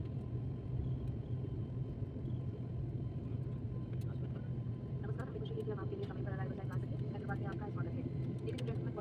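Steady low rumble of a passenger jet cabin while the plane lands at Hyderabad airport, a constant engine drone throughout with faint background voices in the cabin.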